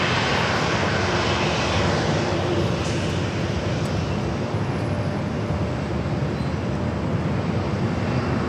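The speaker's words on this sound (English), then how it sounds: "Looks like that Gulfstream now crossing over." Gulfstream business jet crossing at San Diego airport, a steady, broad jet roar that holds throughout at a moderate distance, with no voices.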